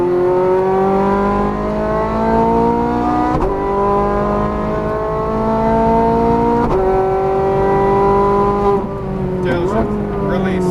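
Ferrari F430 Scuderia engine revving hard on a race track, loud and close, with rising gear pitches broken by sharp upshifts around every three seconds and a downshift near the end, while an instructor talks over it.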